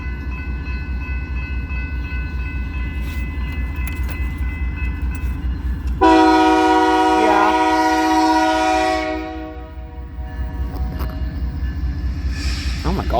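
A CPKC freight train passes close by, with a low rumbling roll throughout and a loud, sustained multi-tone horn blast in the middle lasting about three seconds before the rumble continues.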